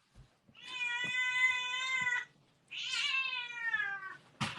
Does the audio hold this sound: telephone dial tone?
no